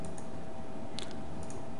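Soft computer keyboard typing and mouse clicks sound close and quiet, with a few sharper clicks standing out against a faint steady background hum.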